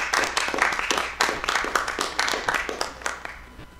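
Audience clapping for a band member at a small live pub show, a dense run of hand claps from a modest crowd, steady and fairly close, fading slightly toward the end.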